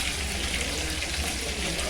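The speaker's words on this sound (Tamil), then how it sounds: "இந்த இடத்துல மட்டன் வறுவல்." Mutton fry sizzles in a pan in a home kitchen, a steady, even hiss of frying that holds without pause for the whole stretch, close and fairly loud, with no voices over it.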